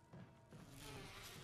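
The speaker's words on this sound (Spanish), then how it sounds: "Oh, malditas avispas." A wasp swarm buzzes in Resident Evil HD Remaster, a steady, close insect drone rising slightly in loudness over a brief moment, with no talk.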